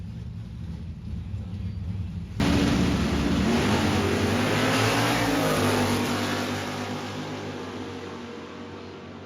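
A vintage Dodge Challenger launches in a classic car drag race, its engine suddenly roaring loud and then fading gradually as it pulls away from the start.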